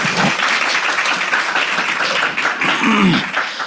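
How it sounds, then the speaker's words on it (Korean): An audience at an Amway business lecture claps steadily in sustained, dense applause throughout. "박수 한번 보내드릴게요."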